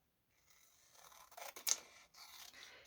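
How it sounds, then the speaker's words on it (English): Scissors snip and trim along the edge of a paper piece for a junk journal, giving a few quiet close cutting rasps and crisp snips that peak midway, with no talking. "you can just take some scissors and trim it along the edge"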